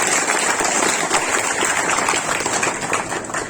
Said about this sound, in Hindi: एक बार जोर से तालियां हो जाए अपने लिए